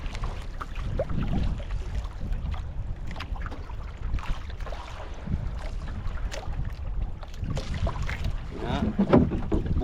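Paddle strokes dip and splash beside a small fishing boat on open water as a dorado fisherman works his bait area, with wind buffeting the microphone steadily throughout and no talk.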